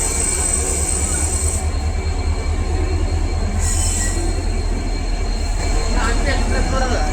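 Hampi Express hauled by a UBL WDP 4D diesel locomotive departing Gadag Junction, with a steady loud rumble of the engine and wagons, wheel squeal and rail noise throughout.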